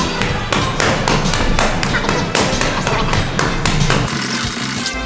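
Boxing punches land on focus mitts in a rapid series of loud, close thuds and slaps with short pauses between combinations, while a trainer talks over the strikes.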